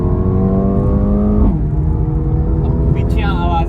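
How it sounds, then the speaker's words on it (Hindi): A Mercedes AMG A35 engine revs loudly with sustained tonal exhaust drone, then drops off around the middle as the revs fall, followed by rougher exhaust burble and brief crackle under talking. "अब पीछे आवाज आ रही है क्रैकल्स की"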